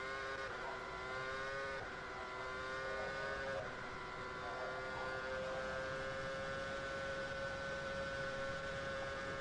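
An F1 car from the 2013 season in the rFactor 2 sim holds a steady high engine drone near the rev limiter, its bright harmonic whine almost constant with faint wavering, continuous and fairly loud with no talking.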